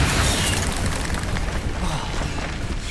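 The Bombarda explosion spell goes off in Hogwarts Legacy, a loud, dense blast that stays roaring and rumbling for the full stretch with no gap, one continuous booming burst up close.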